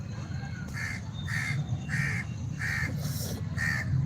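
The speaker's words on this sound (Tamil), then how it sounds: "காக்கா கற்றுது." A crow caws six times in a steady, evenly spaced series, moderately close and clear over a low background hum, with no talking.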